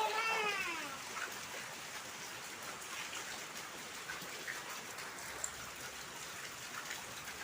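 Heavy rain pours down on a house yard turned into a pool by water running in from a nearby stream, a dense, steady hiss that fills the whole stretch, with a brief chirping sound near the start.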